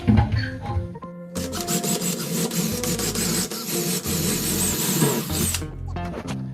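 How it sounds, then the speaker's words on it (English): A power drill whirs steadily for several seconds, with a loud, continuous grinding buzz as it bores holes through a kitchen cabinet for handles, up close. "now we're just going to simply drill it in."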